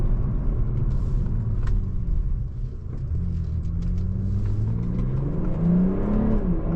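BMW M340i G20 engine accelerating, heard as a low in-cabin rumble that swells and climbs in pitch toward the end, fairly muted and steady without talk.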